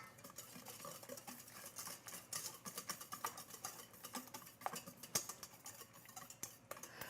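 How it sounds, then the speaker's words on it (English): Egg whites and sugar being whisked in a bowl set over a warm water bath for macaron meringue, a steady run of quick metallic whisk taps and scrapes against the bowl, close and moderately quiet with no talking. "I'm going to move over to my water bath and I'm going to whisk this"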